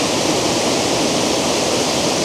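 Lower Campsie Falls waterfall pours in a dense, unbroken roar of rushing water, loud and close, with no voices over it.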